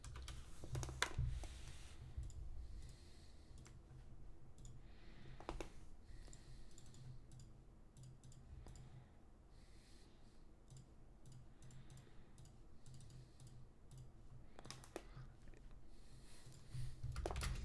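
Quiet, sparse keyboard taps and clicks at an irregular pace, faint against a low background hum.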